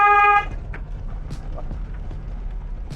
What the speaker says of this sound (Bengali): বাড়ির গেটের সামনে তো যাওয়ার আগে হর্ন দিতে হর্ন দাও